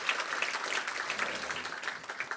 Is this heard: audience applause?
yes